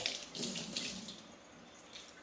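Tap water runs over a towel being rinsed at a sink, a close steady splashing flow that fades off toward the end of the short stretch.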